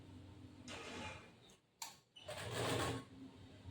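Sewing machine stitching a boat-neck blouse with lace on top, two bursts of whirring stitches separated by a short pause with a few mechanical clicks, close and clear.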